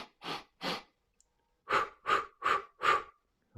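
Slow, deliberate breaths drawn in and out close to the microphone, two long exhales followed by a pause and then four more evenly spaced breaths in a calm, meditative rhythm, with no speech.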